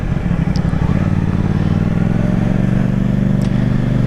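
A CF Moto 450 SR-S motorcycle ridden through town traffic, its engine droning loud and steady close up with a low throbbing hum and wind noise throughout.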